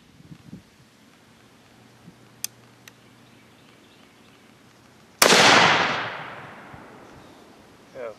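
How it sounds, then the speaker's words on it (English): A 7mm-08 rifle fired from a CVA Hunter during an expansion test into wooden boards goes off as one loud, sharp shot with a long rolling decay, after a few faint clicks and handling noises. "This is a 7mm-08 shooting out of a CVA Hunter."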